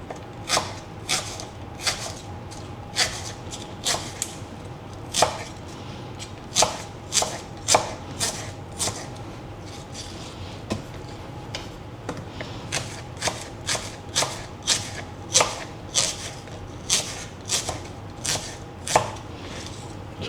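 A knife slices thin pieces of vegetable for a breakfast salad, giving sharp repeated taps on a cutting board in an uneven rhythm, close and clear with no talking.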